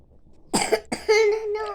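A child gives two short coughs close by, followed by a brief high-pitched vocal sound.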